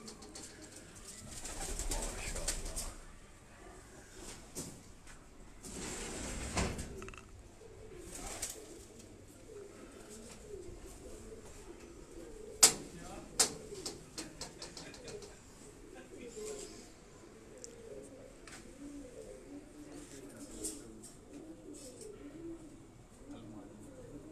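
Topi-breed pigeons at a Rawalpindi rooftop loft coo in low, rolling murmurs beneath a voice giving instructions, with occasional sharp knocks and rustles as birds are handled and moved.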